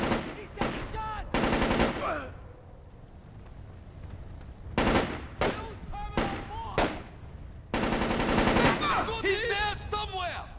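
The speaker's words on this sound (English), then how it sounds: "Pull out! Pull out! He's taking shots!" Bursts of gunfire in Splinter Cell: Chaos Theory, several loud rapid volleys separated by brief pauses, with shouted voices mixed among the shots.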